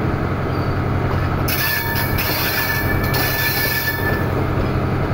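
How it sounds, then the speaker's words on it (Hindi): The Jaffar Express passenger train rumbles along the tracks in Pakistan near the Jhelum River, with a steady roar, thin metallic squeals from the wheels rising over the noise. "हमारी ट्रेन अगले स्टॉप के लिए रवाना हो रही है"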